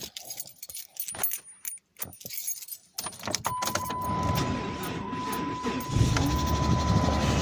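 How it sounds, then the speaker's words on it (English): A 2007 Dodge Charger being started on a cold day: keys jangle for a few seconds, then the engine cranks and catches into a steady, loud running roar with a constant whine close by. "I'm gonna try to start this car because it's cold as hell in here."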